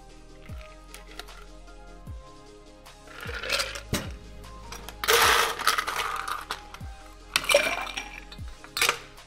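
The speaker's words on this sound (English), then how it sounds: "So strain over fresh ice." A three-ingredient cocktail with orange bitters is strained over fresh ice, giving scattered, close clinks and taps of ice against glass that grow busier with brief bursts of rattling and pouring.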